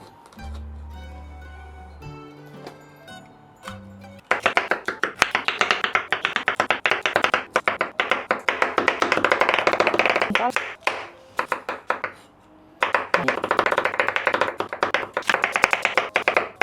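A knife cuts ingredients in half for a homemade dog birthday meal. Dense, rapid chopping taps on a board come close and loud after a few seconds of soft music, with a short pause before the cutting resumes.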